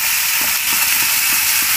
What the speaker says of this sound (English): giving it a nice fry,